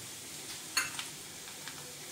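Garlic frying in a pan for a tomato curry (tomato saar): a soft, steady sizzle with one brief clink of a stirring spoon and a few light scrapes, close and quiet, with no talking.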